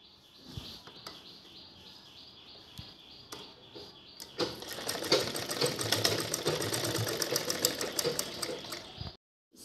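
A sewing machine stitches a handle onto an old shopping bag: a few quiet mechanical ticks and knocks, then a loud, steady whirring run of rapid stitching that lasts several seconds before stopping abruptly.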